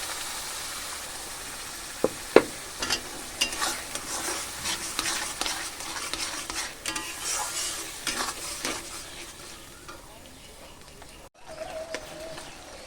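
Ground tomato paste and spices fry in a pan with a continuous sizzle and crackle, punctuated by a few sharp clinks and scrapes early on, while faint birds coo in the background.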